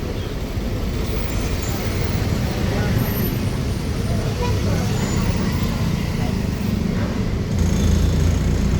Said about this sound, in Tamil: ஃபுல்லாகவே டிராஃபிக் தான்